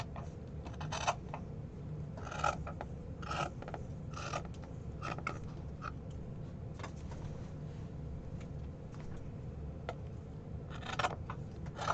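Scissors cutting around a shape in paper at a craft table, a steady soft rasping crunch with brief louder snips scattered throughout, close and continuous with no talk.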